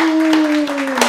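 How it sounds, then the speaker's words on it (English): An audience gives a big round of clapping, with a few sharp claps standing out under a steady tonal sound, fairly loud and close. "Big clap, big clap."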